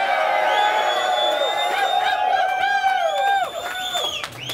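Crowd at a rap battle in Vancouver cheering and whooping loudly and continuously, with shouted voices rising above the roar.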